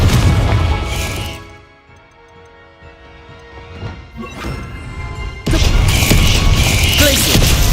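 A Confringo spell blast in the video game Hogwarts Legacy: a loud, crashing explosion dies away into a quieter stretch, then a second heavy, booming burst hits and keeps roaring to the end.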